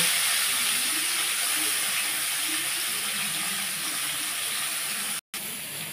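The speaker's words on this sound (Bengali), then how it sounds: "এইবার আমি এই উচ্ছেগুলো এর মধ্যে দিয়ে ভেজে তুলে নেব।" Bitter gourd pieces frying in hot oil for a lentil dish, a steady, dense sizzle and hiss that carries on without a break, then cuts out for a split second before resuming.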